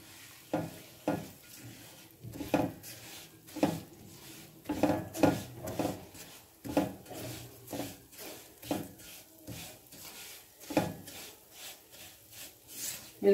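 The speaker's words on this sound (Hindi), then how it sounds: "घी हमारा गर्म हो चुका है, अब हम सूजी डालेंगे" A spoon stirs and scrapes semolina roasting in hot ghee in a pan over medium heat, with a faint sizzle under repeated soft strokes, quiet and close.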